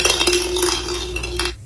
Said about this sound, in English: That sound is dropping a Christmas ornament on the floor.